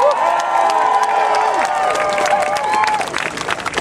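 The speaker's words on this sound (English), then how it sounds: "So can we give a round of applause to Julian Bahula, please" Crowd applause mixed with cheers and whoops at an outdoor UN Anti-Racism Day rally in London, sustained and loud throughout with a few voices calling out over the clapping.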